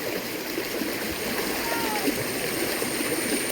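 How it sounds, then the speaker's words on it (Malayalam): Kids jump into the water and swim about, giving a steady rushing wash of splashing and churning water, with a few sharper splash bursts over a constant noisy bed. "അച്ചൂസ് ചാട്ടം തുടങ്ങി പാത്തൂസും ചാടി വെള്ളത്തിൽ"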